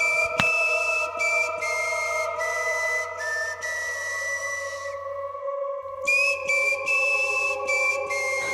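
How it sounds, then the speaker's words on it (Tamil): A long, eerie whistle with steady sustained tones and a low hum beneath, drawn out continuously with a brief drop around the middle, alone with no talking. "உங்களுக்கு அந்த விசில் சவுண்ட் போக போக இன்னும் க்ரீப்பியாக கேட்குது."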